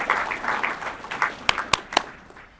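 A short round of applause at a chamber of commerce luncheon for the Lieutenant Governor, a scattered patter of claps with a few sharp close claps standing out near the end as it tapers off.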